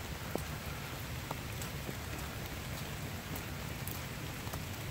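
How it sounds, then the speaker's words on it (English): Heavy rain pours down on a summer solstice hike with shepherds, a constant close hiss of drops striking surfaces, broken by a few louder individual splats. "the rain's coming down hard enough where if it does rinse all my tea tree oil off"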